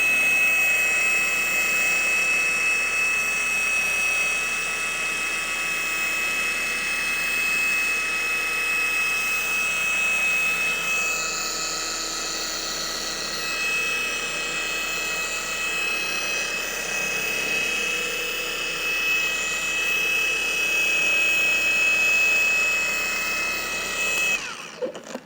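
A polishing machine with polish scrubs faded, oxidized plastic, a steady high-pitched whine and buzzing hum that runs loud and unbroken for the whole stretch before cutting off at the end.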